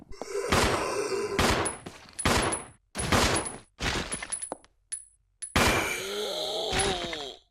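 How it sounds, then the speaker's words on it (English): Handgun shots fired at a zombie in Resident Evil Zero, Rebecca's handgun: five sharp, loud reports spaced about a second apart, with brief metallic pings and ringing tones between them. "that took 5 handgun shots to take down a zombie with Rebecca's handgun"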